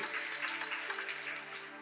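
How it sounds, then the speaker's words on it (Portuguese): Church congregation applauding during a sermon, a steady quiet patter of many hands clapping together, even and sustained with a faint low hum beneath. "Você pode aplaudir o Senhor?"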